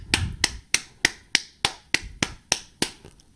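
Around eleven crisp, close single hand claps at a slow, even pace, each ringing briefly before the next, with nothing else beneath them.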